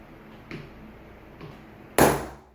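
Two light metallic taps, then one sharp, loud hammer blow on a coin die striking a token, ringing briefly before fading.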